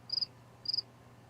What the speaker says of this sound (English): You outside somewhere? I hear crickets.